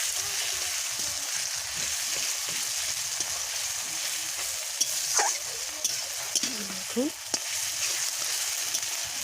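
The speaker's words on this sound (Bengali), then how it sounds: "আদা রসুন বাটাটা ভাজা ভাজা হলে একটু ভেজে নেড়ে চেড়ে" Ginger-garlic paste sizzles in hot oil for a chicken curry, a steady frying hiss broken by scraping spatula strokes in the pan; a voice speaks briefly once.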